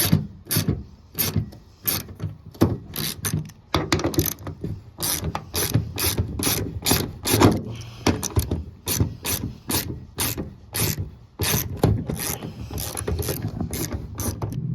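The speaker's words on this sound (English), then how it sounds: "you're gonna wanna get a 13mm socket and take them all off" A 13mm socket ratchet loosening the bolts of a Silverado or Sierra pickup tailgate handle: rapid, close, rhythmic clicking in repeated bursts, with brief pauses between strokes and no talking.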